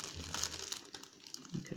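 Close, quiet crinkling of a soft plastic packet being handled, with irregular rustles and crackles and no voices.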